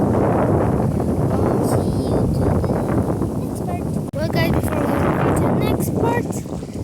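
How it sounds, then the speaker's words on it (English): Strong wind gusting by Lake Murray, a steady broadband roar buffeting the microphone throughout, with voices talking over it. "over here in this lake, it's really windy, so maybe you can't hear us"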